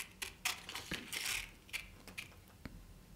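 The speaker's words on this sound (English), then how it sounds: "I'm going to cut off that little flap" Scissors snip off a small paper flap on a cut-out robot figure for a kid's drawing craft, with a run of close, crisp, irregular snips and crinkles across the stretch.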